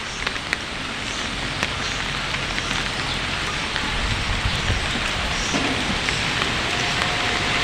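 Heavy typhoon and monsoon rain pours down without pause, a dense, even hiss of drops hitting surfaces close by, with no voices.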